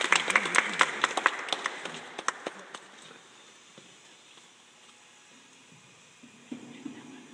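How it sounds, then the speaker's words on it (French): A short burst of clapping from a small group at a baptism, brisk at first and then fading out within a few seconds, leaving quiet room noise and a faint voice. "On l'applaudit pour lui dire bienvenue."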